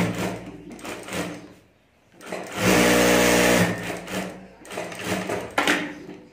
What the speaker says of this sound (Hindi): यहाँ दोनों राउंड में हमें सिलाई कर देनी है।